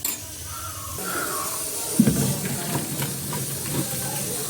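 Hot water drained from freshly boiled vermicelli for hotel-style shavige bath: a steady hiss and rush of pouring water with a few clanks of the pot near the middle.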